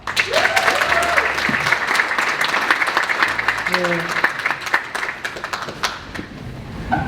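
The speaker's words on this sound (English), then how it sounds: "big clap for Tom." Audience applause closing the final session of an SEO conference in Brighton, steady dense clapping throughout with voices murmuring and talking over it.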